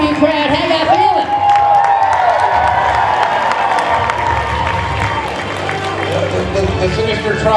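A large crowd at an FSCW wrestling tag-team title match cheers and claps in a loud, continuous roar that holds steady throughout, with a voice shouting over it early on.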